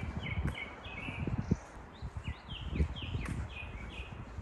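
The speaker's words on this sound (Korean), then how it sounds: "저는 들어와서 깜짝 놀란 게 새소리가 너무 좋아서 와," Birds sing in short, repeated chirping phrases along a tree-lined path in Jincheon, fairly faint and distant over rustling and low outdoor noise.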